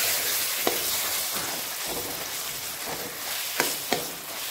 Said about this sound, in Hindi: अच्छी तरह से चला के भून लेंगे आंवला को